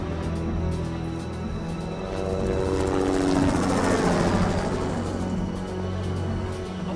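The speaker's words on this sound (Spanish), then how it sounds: "¿y ese ruido qué es, hermano? ¿Qué es lo que está sonando allá? Un helicóptero" A helicopter's steady thumping rotor drone holds throughout, swelling slightly louder in the middle as it passes fairly close, with no talking.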